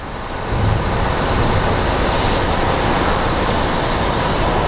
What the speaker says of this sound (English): we do have a JSX Embraer that is getting ready to depart